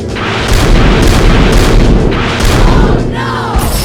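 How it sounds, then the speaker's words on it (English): Cartoon fire hypercar launching fireballs in an animated cat-family vending machine game, heard as dense, loud booming blasts rolling continuously with a rising whoosh near the end. "Tommy's fire hypercar is shooting fireballs."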